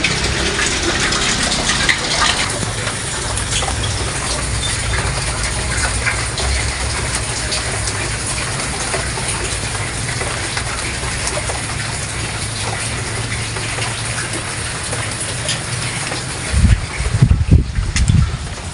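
Heavy typhoon rain pours down steadily in a dense, loud rushing wash that fills the whole stretch, with a few louder thumps near the end and no talk.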